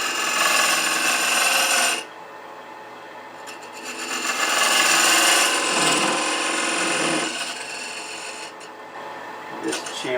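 Raspy filing and rubbing of hand tools cutting threads into a short wooden tenon about 3/8 inch long, for a screw-together keepsake box; steady near scraping strokes that swell and fade in passes.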